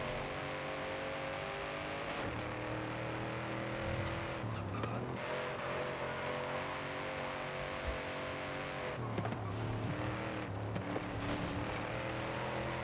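A Shelby GT350 Mustang driving in the Forza racing game, its engine droning steadily with shifting revs and brief tire squeals, heard alone without voices.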